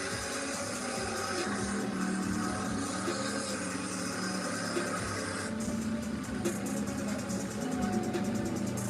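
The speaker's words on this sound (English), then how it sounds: "these engines are so loud" Loud monster truck engines drone steadily and closely throughout, a dense continuous rumble with no voices.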